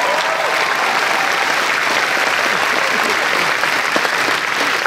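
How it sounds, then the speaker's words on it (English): Audience applause at a Star Wars Celebration panel on Disney Parks, a dense, steady wash of clapping from a large crowd filling the whole stretch, loud and continuous. "Give him a round of applause."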